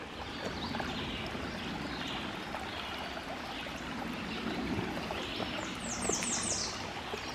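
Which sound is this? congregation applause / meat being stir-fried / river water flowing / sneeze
river water flowing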